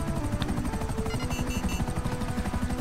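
Helicopter flying in GTA 5 Online: a steady, loud rotor chop with a rapid rhythmic thumping and engine drone running throughout, close and continuous without talk.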